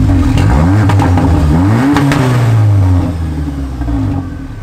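A heavily tuned VW Polo GTI with a custom exhaust revs loudly and close by, its engine note climbing and dipping through a couple of sharp blips before settling toward idle.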